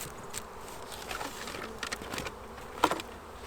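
Honey bees from an eight-frame colony hum and drone faintly around a hive opened in spring and worked with a smoker, with a few soft taps and a brief sharper sound near the end.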